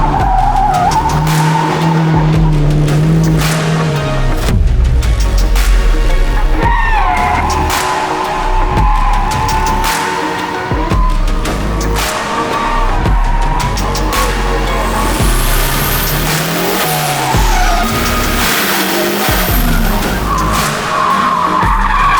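A 500-horsepower Toyota Tacoma drifts around a track with loud, sustained tire skidding and squeal over a roaring engine that rises and falls through repeated slides, close and continuous.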